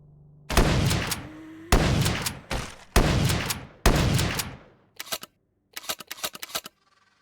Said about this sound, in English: Can't believe I'm using a shotgun.